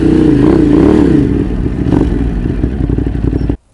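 A motorcycle engine revs loudly and close up, its throbbing note rising and wavering before the recording cuts off abruptly.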